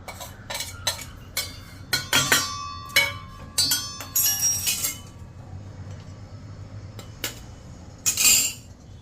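A spoon clinks and scrapes against a bowl while egg omelette mixture with green chilli is stirred, in quick uneven bursts of metallic taps. A pause follows, then a final brisk flurry, close and loud with no talking.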